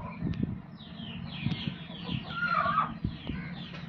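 Peru cross breed hens cluck softly and intermittently at close range, with short clucks and a brief higher call in the middle, and no talking.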